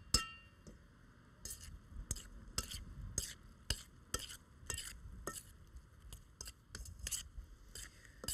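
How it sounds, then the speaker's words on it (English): A spoon stirs lime juice into chopped mango in a bowl, giving a steady run of light clinks and scrapes at an irregular rhythm, close and quiet, with no talking. "Let me get a spoon to mix it up"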